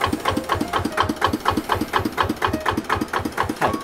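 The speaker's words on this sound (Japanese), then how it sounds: "はい、これでエンジンがかかりましたね。" A diesel tiller engine, hand-cranked with the decompression lever, has just started and runs on its own with a steady, loud, close chugging beat of rapid, evenly spaced knocks.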